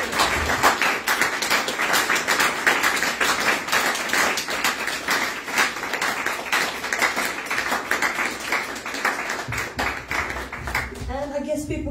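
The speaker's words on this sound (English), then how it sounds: "we should give our panel a round of applause" An audience at a panel discussion applauding, a steady sustained wash of clapping hands that lasts throughout and fades slightly near the end.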